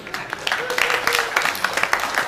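Audience clapping in a lecture hall, a steady patter of many hands lasting a couple of seconds, moderately loud with a faint voice underneath.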